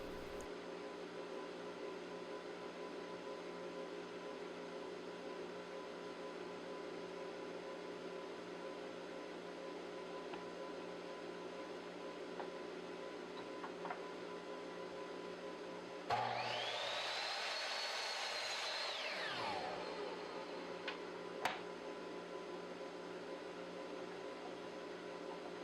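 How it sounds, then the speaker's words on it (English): A power saw cuts wooden apron pieces to length for a small end table, sounding as one loud whining burst of about four seconds midway through, over a steady workshop hum with no talking. "Now adjusting the stop block for the shorter apron pieces and cutting them to their final length."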